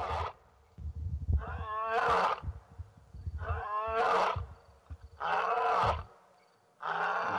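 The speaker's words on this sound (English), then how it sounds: "of course, is a territorial call, and just another example of that arrogance of lions, that they will call out to all animals in the area" A lion gives a territorial roar in the African wild: a series of deep, rough grunting roars repeated at steady intervals, fairly distant and alone, with quiet gaps between calls.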